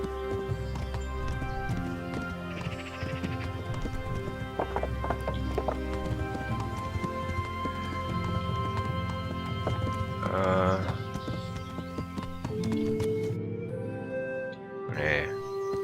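A horse gallops in Kingdom Come: Deliverance, with rapid hoof clip-clops over game ambience. Brief speech-like bursts and a whinny-like sound break in near the end.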